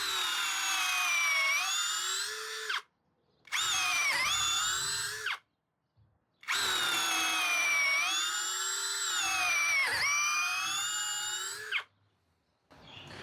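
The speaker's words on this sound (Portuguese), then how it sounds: "prefere usar brocas HSS, que teoricamente são brocas destinadas à perfuração em metal, para perfurar madeira" A cordless power drill boring into wood with an HSS metal bit, with several long high-pitched whining bursts separated by short pauses, the motor pitch dipping under load, close and loud.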